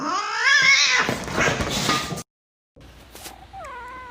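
A black cat meows loudly and close, with a long drawn-out wailing call, a brief silence, then another shorter rising meow.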